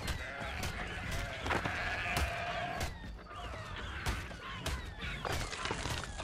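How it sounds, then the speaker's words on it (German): Sheep bleat in the video game Ark Ascended, drawn-out wavering cries mixed into a busy, constant game soundscape of thumps and impacts. "Armer Sünde, armes Schaf."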